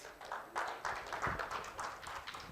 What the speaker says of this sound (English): Round of applause for Mayank.